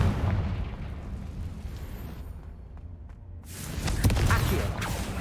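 A Confringo blast spell explosion in The Sims 4 video game: a rumbling, noisy burst that swells sharply near the end over a steady low game background.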